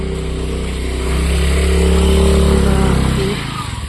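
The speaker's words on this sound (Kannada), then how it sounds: "ಗಾಡಿ ನಿಲ್ಲಿಸ್ತಾ ಇದ್ದಾರೆ ನಮ್ಮ ಹಸ್ಬೆಂಡ್ ಗಾಡಿ ಒಳಗಡೆ ಹಾಕ್ತಾ ಇದ್ದಾರೆ" A motorbike engine runs close by on a cold night as it is parked and ridden indoors, its steady low idle rising into a brief rev before cutting down near the end.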